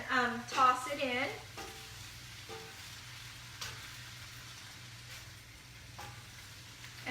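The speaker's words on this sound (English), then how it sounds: "So I'm just going to add the tofu back in, and I'm going to go ahead and toss it in." Tofu is tossed in a hot wok with a steady, soft sizzle and a few light stirring clatters, while a voice speaks briefly at the start.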